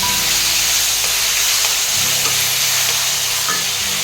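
Tomatoes for a drumstick sambar sizzle and fry steadily in a hot pan, with a constant broadband crackle and hiss that runs loud and unbroken throughout, a few stirring knocks showing through.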